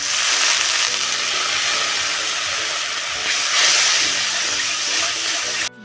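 Water poured into a hot pan with mustard paste and turmeric bursts into a loud, steady sizzling hiss of steam that continues throughout, swelling slightly midway.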